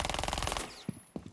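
Rapid automatic gunfire in a controller-played shooter video game, a dense run of evenly spaced shots lasting about half a second, followed by a few faint scattered thuds.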